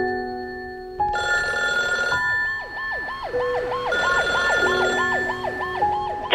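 An emergency call line rings on a telephone, first as steady tones and then as a repeating electronic warble that cycles loudly and continuously with no talk over it.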